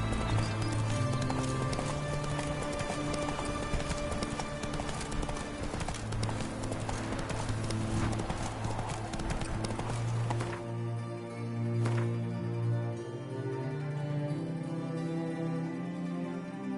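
Roach, the horse in The Witcher 3: Wild Hunt, gallops with steady, loud clip-clop hoofbeats over a continuous in-game music bed, with a brief whinny-like tone near the end.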